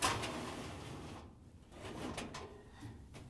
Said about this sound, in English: we can reach in and pull the drawer away from the safety valve a little bit so we have more room